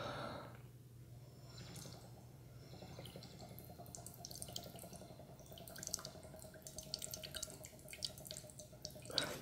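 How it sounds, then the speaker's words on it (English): Water in a cup bubbles and gurgles as air is blown into it, with quiet, irregular drips and burbles running continuously over a soft, low background. "you can hear the bubbling and the gurgling of the water"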